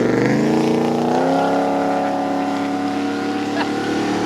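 A boosted classic Cadillac engine at a Houston car show, revving up loud and close, then holding a rough, steady drone with no clear talk over it.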